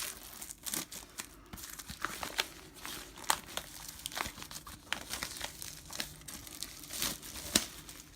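Keys scrape and tear at a cardboard board-game packet, giving quiet, close crinkling and ripping in irregular short bursts.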